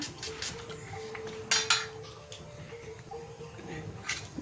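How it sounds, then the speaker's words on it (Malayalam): A kitchen knife strikes a cutting board while vegetables are cut into even pieces, giving a few scattered close taps and clicks with quiet gaps between them and no talking. "രണ്ടും ഒരേ വലുപ്പത്തിൽ കിടക്കുകയാണെങ്കിൽ വേവും കറക്റ്റാകും. അതുകൊണ്ടാണ് ഞാൻ ഒരേപോലെ തന്നെ അരിഞ്ഞ് എടുക്കുന്നത്."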